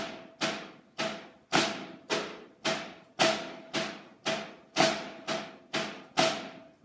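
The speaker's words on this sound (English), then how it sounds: "The Flam Accent, which if you're not familiar with the Flam Accent, it sounds like this." Snare drum plays the flam accent rudiment, a steady run of about a dozen crisp, evenly spaced struck notes with grace-note flams, loud and close with no talking.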